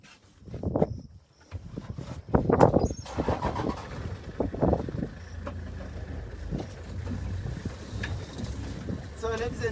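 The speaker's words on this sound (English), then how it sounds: "So I'm going to drive a little bit and see what we can find on the way." A safari vehicle drives slowly through high grass in the African bush, engine rumbling low under a guide's talk, with bumps, knocks and rattles from the rough track.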